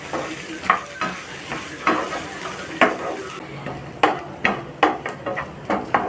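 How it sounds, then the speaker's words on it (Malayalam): Sliced onion and curry leaves sizzle in a hot pan for a Kerala-style red rice dish, a steady frying hiss broken by sharp spoon-scrape and stirring clanks at intervals; no one speaks. "നമുക്കിതിലേക്ക് സവാള ഇട്ട് കൊടുക്കാം എല്ലാം കൂടി നല്ലോണം ഒന്ന് മൂപ്പിച്ചെടുക്കാം"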